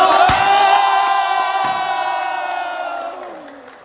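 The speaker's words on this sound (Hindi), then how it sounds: "आपकी जोरदार तालियों के बीच में" A live audience cheers and whoops in a loud, sustained roar at a company success-story event as a guest is welcomed on stage, the crowd noise slowly fading over a few seconds.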